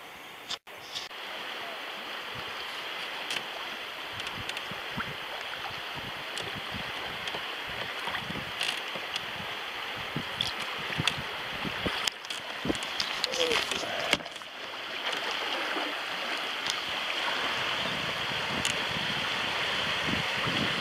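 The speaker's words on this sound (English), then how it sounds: "a pretty good rapid coming up. You can hear it before you get to it." Rapids on the James River rush ahead as a boat drifts toward them, a steady broadband roar of churning water that holds constant for the whole stretch, with faint knocks and splashes close by.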